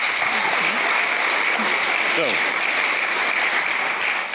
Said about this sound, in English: So please give them both a big round of applause.